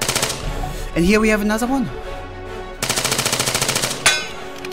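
Automatic gunfire in the video game Arma 3, King of the Hill mode: rapid loud bursts near the start and a long sustained burst in the second half, with someone talking over the middle.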